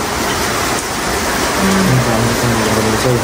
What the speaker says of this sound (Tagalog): Habang nagpapatila ng ulan.